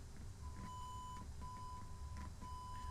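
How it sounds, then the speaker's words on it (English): Three short, steady electronic beeps from a cockpit aural warning test in a PMDG 777-300ER flight simulator, sounding at even intervals over a constant low engine hum, each tone clear and sustained for roughly a second. "There's the little beep."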